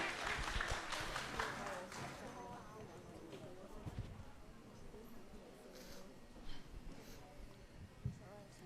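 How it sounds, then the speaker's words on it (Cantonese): A school audience of teachers and parents applauding before a class performance, a dense patter of clapping at first that thins out, with an announcer's voice over it. "請大家鼓起掌聲，準備迎接今日壓軸出場嘅6E班"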